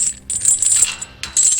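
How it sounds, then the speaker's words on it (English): Metal chains rattle and jingle in bright clinking bursts, loud and close, with a short pause before the clatter resumes. "These are my rattling chains."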